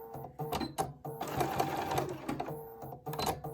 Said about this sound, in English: we're going to go ahead and just do another securing stitch further down